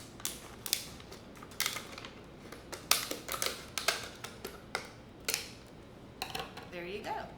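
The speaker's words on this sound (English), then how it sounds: "carefully slide the scissors in through that slit and just cut off the bottom of that bottle" Scissors snip and crunch through the bottom of a plastic bottle in a series of irregular sharp cuts, close and fairly quiet, with a voice speaking briefly.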